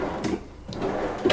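A drawer in a 2023 Grand Design Momentum 410TH RV slides and thumps shut, with a couple of short knocks close by and no talking.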